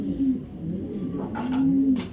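Racing pigeons coo in a close, steady low murmur, with a couple of soft rolling coos standing out over a faint rustling background.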